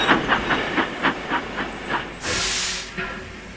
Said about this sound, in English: Skarloey puffed thankfully into the station.